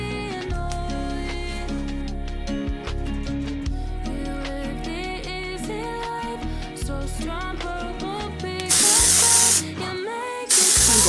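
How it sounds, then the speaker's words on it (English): Texturizing hair spray comes out in two hissing bursts, a longer one and then a shorter one, close and loud over steady background music. "I'm gonna go in again with the texturizing spray."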